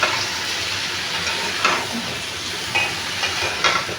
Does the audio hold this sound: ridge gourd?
yes